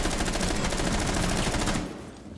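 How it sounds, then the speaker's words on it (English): Rapid automatic gunfire from a player's gun in Rainbow Six Siege rattles in a fast, even stream of loud shots for nearly two seconds, then cuts off. "Panda rattling out the shots through into break room"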